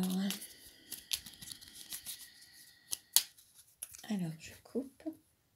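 A deck of tarot cards being cut and handled, giving sharp snaps and crisp flicks with papery rustling, interleaved with a voice speaking.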